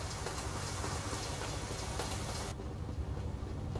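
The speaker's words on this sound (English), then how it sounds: "That train is pretty loud." A train passing in American Truck Simulator, near Clarksville, Tennessee, heard as a loud, steady broadband rumble and roar that fills the scene, with no talk over it.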